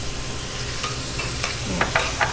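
Red onions and scallions sizzle in sesame oil with a steady low hiss, broken by a few soft stirring scrapes and light crackles toward the end.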